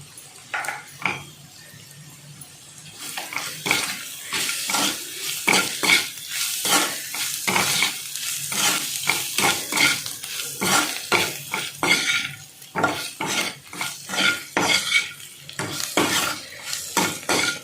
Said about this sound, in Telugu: ఇప్పుడు మొత్తం అంతా కలుపుకొని బాగా తిప్పుకోవాలండి